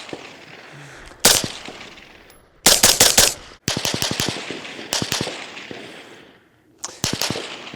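A suppressed modern 14.5 rifle fires outdoors in sharp bursts of rapid shots: a single crack, then tight strings of four to six shots separated by pauses, loud and close with a slight echoing tail.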